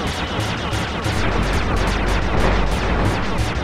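Rapid bursts of gunfire in the video game Sly 2: Band of Thieves, a dense, loud barrage of overlapping shots with a heavy low rumble throughout.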